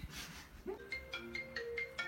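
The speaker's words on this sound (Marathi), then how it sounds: "फोन पण आला मग" A mobile phone ringtone for an incoming call repeats as a short melodic pattern of bright tones, fairly faint over a quiet room with low background murmur.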